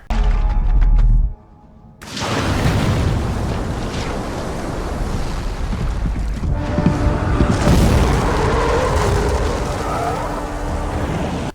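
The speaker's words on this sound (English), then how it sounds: "The explosion rocks the throne room" A movie explosion tears through a throne room: a loud, heavy boom opens, cuts out briefly, then swells into a long, roaring rumble of blast and debris that carries on steadily to the end.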